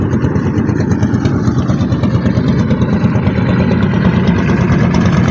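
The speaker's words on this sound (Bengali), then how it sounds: "ট্রলারটি যেতে খুব কষ্ট হচ্ছে, এমন জলে আসলে নৌকা চালা খুবই দুষ্কর।" A trawler boat's engine chugs on a small river with a current, a loud, steady, rapidly pulsing diesel throb heard close and alone throughout.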